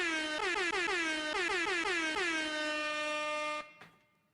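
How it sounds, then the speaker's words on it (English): A loud air horn blares in rapid repeated bursts, then holds one long steady blast before cutting off. "Let me get these goddamn air horns."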